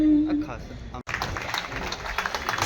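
Applause for the Vadodara police commissioner at a ceremony launching a wellness centre at Makarpura police station: a brief voice, then a crowd breaks into steady, lively clapping that carries on to the end.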